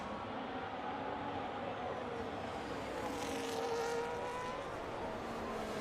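F1 cars from the F1 25 racing game battling wheel to wheel at Mexico, a Ferrari in the fight, heard as a steady, continuous engine drone with rising pitch sweeps, moderately loud with no talk.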